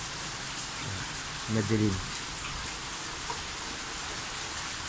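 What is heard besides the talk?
heavy rain falling outside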